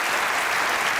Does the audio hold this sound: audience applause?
yes